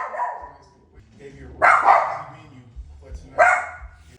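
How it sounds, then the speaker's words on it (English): Dogs bark in two loud bursts, each a quick cluster of sharp barks close by, with a quieter low bark or rumble at the start and a faint low hum in the gaps. "Yeah, they're still barking."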